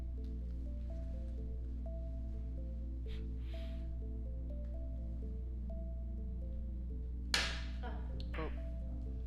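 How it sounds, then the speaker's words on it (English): During a 9-ball pool match, one sharp, sudden clack of a cue miscue stands out over a steady electronic hum, followed by a brief exclamation. "that's the sound of a miscue"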